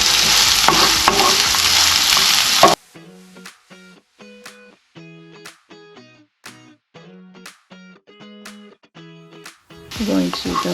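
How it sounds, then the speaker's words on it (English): Onions and garlic sauté in a pot, a dense sizzle at first that gives way to intermittent stirring clinks and scrapes against the pot, with sizzling returning at the end. "I'm going to go ahead and continue to stir, and I can already smell the onions and the garlic."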